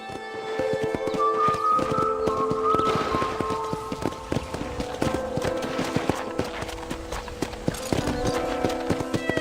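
Horses at a ranch corral in the video game Red Dead Redemption clop their hooves in a busy, overlapping rhythm of hoofbeats close by, with background music tones running underneath.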